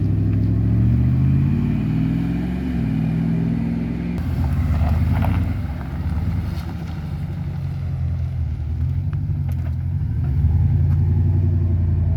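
A Dodge Dakota R/T pickup truck engine rumbles and revs nearby, shifting pitch as it accelerates and eases off, with a steady low drone throughout.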